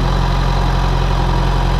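A 2008 Yamaha FZ6 motorcycle engine runs steadily during a throttle body synchronization, a loud, close, even idling drone with deep rumble, heard alone.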